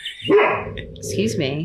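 A pet dog barking indoors in a room: one loud, close bark followed by a longer whining yelp, with a person speaking over it.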